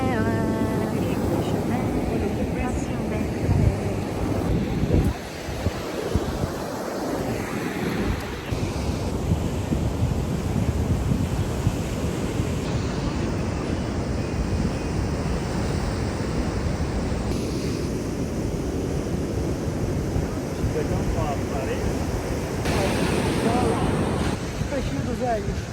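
Surf breaks on a beach in a continuous wash under strong wind buffeting the microphone, with loud, rough, unbroken noise throughout and people's voices faintly mixed in.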